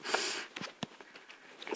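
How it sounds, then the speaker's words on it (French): A person with a cold sniffing indoors, several short, close sniffs in an uneven rhythm, faint, with no talking. "Excusez-moi si je renifle parce que j'ai un rhume."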